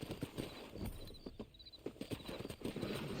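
Hooves clip-clop at a steady walking pace amid outdoor rustle, with a few faint high chirps in the background.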